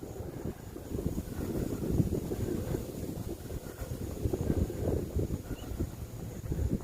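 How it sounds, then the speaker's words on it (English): Steady, gusty wind buffets a microphone outdoors in Cape Coral, Florida, producing a constant low rumbling roar with no voices. "Sorry about the wind."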